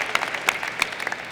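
A commencement audience claps for parents in a short, scattered burst of applause. It is moderately faint and lasts only about a second.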